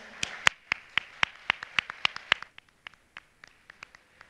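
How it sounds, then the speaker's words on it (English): Sparse hand claps from a small audience at an awards ceremony, a steady run of sharp slaps that thins out into scattered, fading claps, with no talking. "clap your hands please for them"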